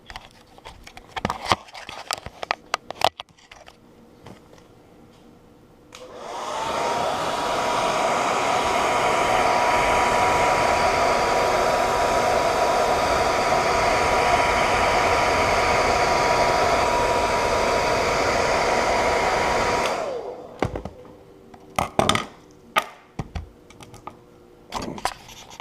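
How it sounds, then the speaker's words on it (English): A hair dryer blasts hot air to heat material for homemade snagless fishing drift weights. It makes a loud, steady roar for about fourteen seconds, with clattering handling noises before and after. "But just get yourself a hair dryer, and you're going to heat this up."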